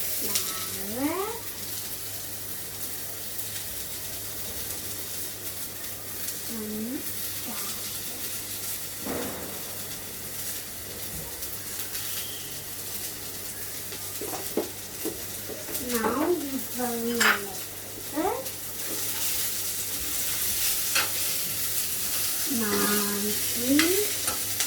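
Capsicum and other vegetables stir-frying in a pan for Chinese bhel, a steady sizzle under scraping spatula strokes, with a bird chirping intermittently in the background and no one speaking.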